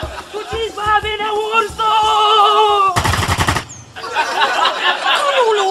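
A rapid burst of machine gun fire rattles out in one short, dense volley between frantic shouting voices in a comedy scene.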